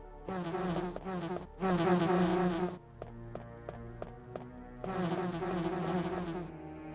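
Bees at a large beehive in the video game Resident Evil, a sustained insect buzz that swells in long loud bursts, drops away to sparse clicks and a low hum in the middle, then returns strong near the end.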